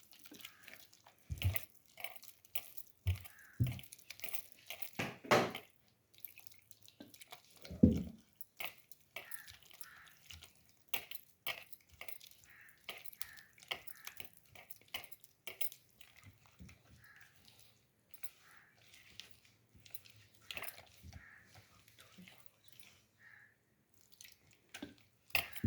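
Besan (gram flour) batter is mixed by hand in a bowl, wet squelching and slapping sounds coming in irregular bursts, close and fairly quiet.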